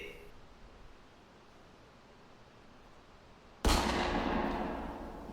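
A sudden loud burst of gunfire erupts in a video game, a sharp crack with a long noisy decay, preceded by a quieter background hiss.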